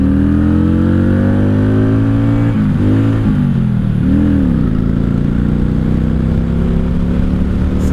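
A 1995 Honda Shadow VLX 600 VT600CD cruiser motorcycle rumbles loudly and close while riding, its engine tone steady with a couple of dips and rises as it shifts, then settling into a constant drone.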